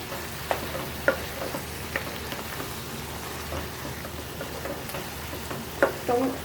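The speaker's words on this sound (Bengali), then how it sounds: "আর দিয়ে দেবো এই শ্রিম্পগুলো মিশিয়ে দেবো" Shrimp and tomato are mixed and fried in a pan, giving a crackling sizzle with scattered spoon taps and stirring scrapes up close.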